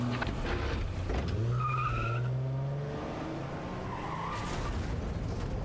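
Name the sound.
car skidding and crashing in Silent Hill 2 Remake video game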